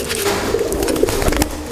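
Pigeons coo in soft, low, rolling calls, close and fairly loud amid rustling and scattered knocks, with no talking.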